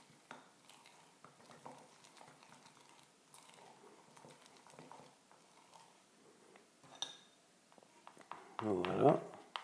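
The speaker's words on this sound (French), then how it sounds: "Et là, je mélange bien." A spoon stirs rye flour, water and sourdough starter in a bowl, soft scraping and tapping strokes that grow louder and denser near the end while a voice talks over them.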